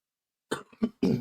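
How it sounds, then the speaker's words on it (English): A person with a chest-bound sinus infection coughs three times in quick succession, close and fairly loud, after a moment of silence, with the last cough heaviest and harshest. "I'm just coughing."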